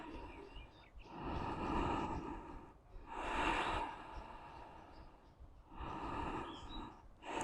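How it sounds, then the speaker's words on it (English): A person takes slow deep breaths during a yoga flow, with three long, airy inhale-exhale swells spaced evenly, close and soft, with no talk. "Taking some nice deep breaths"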